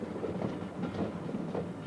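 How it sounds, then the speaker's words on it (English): A special electrification works train rolls slowly along the Norwich railway line at midnight, a low, steady rumble with faint rhythmic clatter, heard alone at moderate distance. "a special electrification works train is moving into place"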